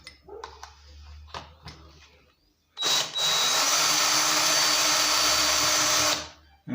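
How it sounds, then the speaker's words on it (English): A power drill fitted with a Torx T25 bit backing screws out of an MTD chainsaw carburetor: a few short handling clicks, then a loud, steady high motor whine for about three seconds before it stops abruptly. "We got this Torque T25 on a drill bit."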